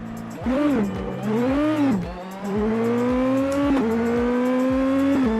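A high-pitched F1 car engine in a racing video game at Detroit revs up and down through gear changes, whining loudly and continuously with no talking.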